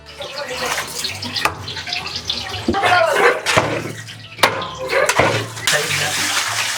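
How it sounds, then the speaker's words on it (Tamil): Water splashes and pours steadily into a cooking pot of mutton leg paya biryani, with clattering and sizzling bursts throughout and voices talking underneath. "லைட்டாக தண்ணி ஆட் பண்ணிக்கிறாங்க."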